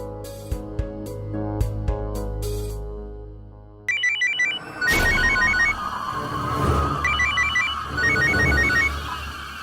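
A phone rings with a repeating electronic ringtone, a bright trilling pattern in bursts, after a low musical passage and a sudden sharp noise.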